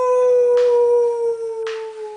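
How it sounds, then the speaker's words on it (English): A beast's howl at the moon, a sound effect in an audio drama, rings out as a long, loud, sustained tonal wail that holds steady and then tapers off slightly at the end. "and the beast howls at the moon"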